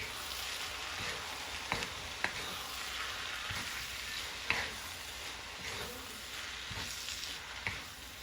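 Vegetables for a vegan chili sizzle steadily in a wok, a faint, continuous hiss and crackle with occasional small pops and ticks, heard close and without talk.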